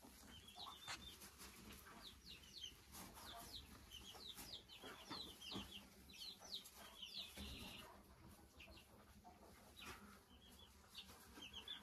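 Four-month-old hens of a white-egg laying breed cluck steadily around a homestead farmyard, with several birds calling and overlapping at close to moderate distance and occasional wing flaps mixed in.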